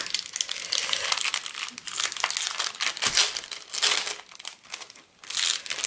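Fragile plastic packaging around a set of die cuts is pulled open by hand, making close, irregular crinkling and crackling bursts with brief pauses.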